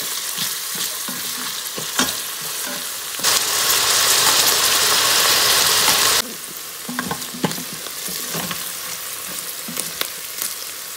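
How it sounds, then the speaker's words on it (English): Chopped onions sautéing in oil in an Instant Pot, soft sizzling with scraping stirs and clinks, then a loud burst of frying hiss lasting a few seconds before it settles back to gentle sizzle. "And saute these onions until they turn transparent."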